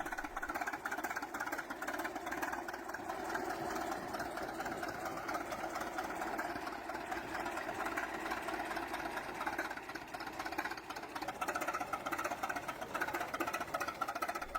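An antique tractor engine from the 1908–1930 era runs slow and steady below normal speed because its carburetor needs adjustment, giving a continuous mid-pitched, slightly knocking chug at moderate distance with no talk over it.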